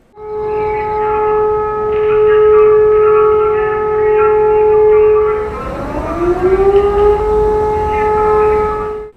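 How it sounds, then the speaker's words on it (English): A loud wailing siren holds steady tones, then dips and rises again in pitch, blaring continuously throughout. "the entire song stops as sirens start blaring"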